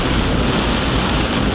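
Steady, dense rain falls outdoors during a lawn mower test, a loud, even hiss with no pauses and no talking.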